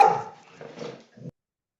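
A dog barks a few times at close range, short rough yaps trailing into a quieter final bark, with no talk over it.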